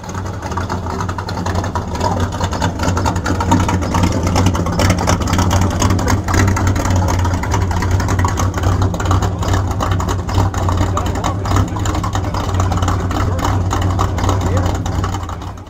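A hot rod fitted with an LS engine runs with a steady, loud rumble and occasional revs at an outdoor car show, with people talking nearby.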